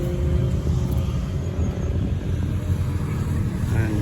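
A traditional Kawasaki street naked motorcycle rides past, its engine a steady, fairly loud low rumble that holds evenly throughout amid general road traffic noise.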